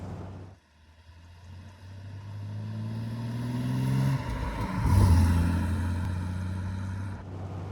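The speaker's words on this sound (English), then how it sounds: "it's really all about that engine and that exhaust note" Triumph TR6 sports car engine and exhaust, a steady low drone that swells as the car accelerates, peaking midway, then holds a sustained, fairly loud note with no talk.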